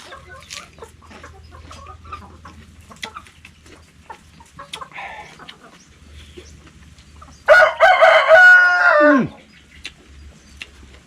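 A rooster crows once, loud and close, a long strained call that rises and then breaks off near the end, set against quiet outdoor background noise with scattered small clicks and rustles.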